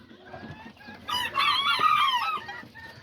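Azteca roosters and hens cluck nearby. One rooster gives a loud, ringing crow lasting over a second, with softer clucks before and after and almost no talk.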